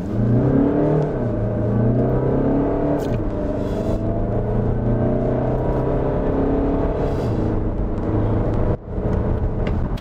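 An Audi Q3 Sportback 35 TDI diesel pulls away hard from a standstill after brief wheelspin, its engine droning loud and close with rising, stepped harmonics as it gathers speed, and a short dip just before the end.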